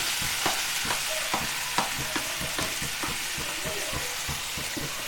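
Tomato puree stirred and frying in a pan for paneer tikka masala: a steady sizzle with regular scraping strokes of a spoon, close and even, with no voices.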